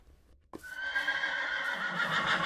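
A horse in Minecraft lets out a long, bright whinny after a brief soft knock, sounding close and clear over faint background ambience.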